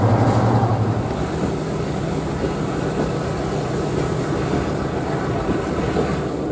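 Class 37 diesel locomotive hauling a train down the line toward Ongar, a steady broad rumble with low engine drone, fairly loud and continuous, no voices.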